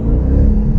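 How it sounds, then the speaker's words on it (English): A supercharged Jeep Trackhawk SUV engine running close by, a low rumbling drone with a faint supercharger whine on top, brief and steady. "You can hear the whine of that supercharger."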